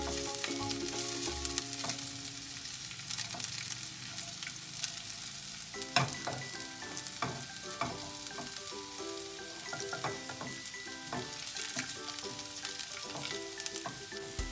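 Onions sizzle and fry steadily in a pan, with a continuous crackle and occasional stirring clicks and scrapes up close, and no talking.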